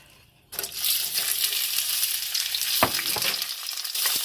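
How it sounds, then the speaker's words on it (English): Onions, tomatoes and garlic hitting hot vegetable oil, a loud sudden sizzle that keeps frying steadily at close range, with a few clinks of a utensil. "I'm going to go ahead and roast my onions, my tomatoes, and my garlic"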